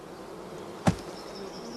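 A honeybee buzzes close by in one short, loud pass near the middle, with a faint hum of other bees lingering over quiet background.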